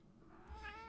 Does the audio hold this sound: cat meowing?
yes